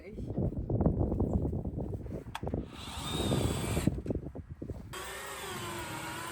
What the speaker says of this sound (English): So my technique is to screw them in the bottom with a long screw